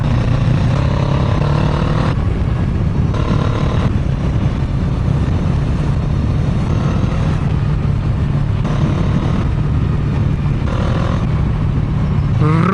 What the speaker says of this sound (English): There's quite a lot of traffic on this route